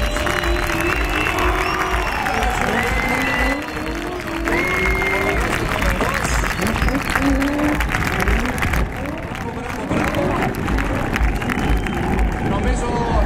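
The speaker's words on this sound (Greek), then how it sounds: "Δώστε του ένα δυνατό χειροκρότημα για το Σέγγες." A crowd at a Gymkhana GRiD final in Athens, Greece claps and cheers for a driver, with a busy hubbub of applause running beneath an announcer's amplified voice throughout.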